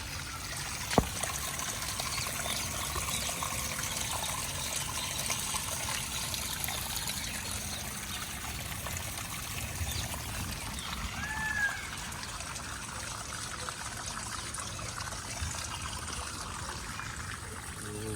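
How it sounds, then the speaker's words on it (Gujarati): Rainwater trickles and pours down in a continuous, even stream, a steady wash of running water close at hand with one brief knock near the start and no talking. "પાણી પડે જુઓ ખાલી"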